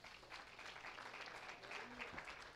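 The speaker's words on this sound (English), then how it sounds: "Give yourselves a praise clap offering." Church congregation giving a praise clap offering, steady crowd clapping at moderate level with a faint voice murmuring underneath.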